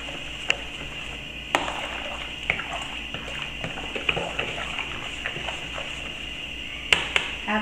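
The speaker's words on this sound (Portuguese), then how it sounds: "Vamos colocar mais um. Mais 1 litro de água." Water poured into a container while making lemon dish detergent, one more litre added after three, with a steady liquid gurgle broken by sharp knocks and clatters, fairly close and without talk.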